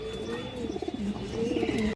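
A pure red Chila pigeon coos close by in soft, rolling, throaty phrases that repeat twice, with a faint steady hum underneath.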